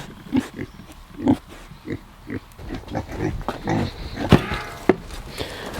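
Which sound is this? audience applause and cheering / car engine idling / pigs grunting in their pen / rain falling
pigs grunting in their pen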